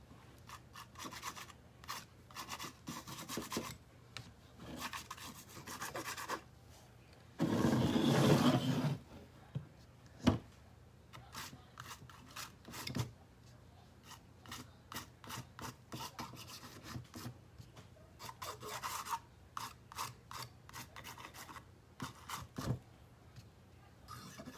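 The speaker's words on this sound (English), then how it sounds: "I'm getting on the back of my palette knife. I'm just scraping it into the background." A palette knife scrapes acrylic paint across canvas, close and quiet, in scattered short rasping strokes with one longer, louder scrape partway through and light tapping between.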